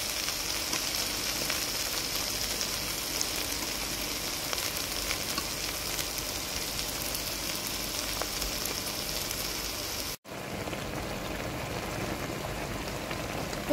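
Food sizzles steadily in a pan after water is added, with occasional stirring scrapes, a constant close hiss throughout and a brief drop partway through.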